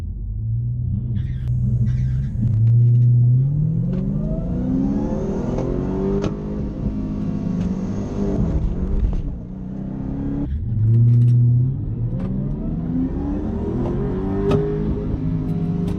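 An import car launches down a drag strip, its engine revving hard through rising gear pulls with clear shifts between them, loud and close, with no voices.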